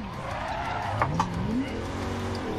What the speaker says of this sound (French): Hop, j'accélère, petit coup de gaz, je faisais un peu trop un tout droit.